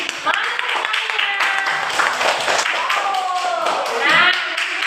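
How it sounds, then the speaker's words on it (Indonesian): Students in a classroom clap their hands together in a burst of quick, overlapping claps, with voices talking over them and some thumping taps mixed in. "Tepuk tangan dulu."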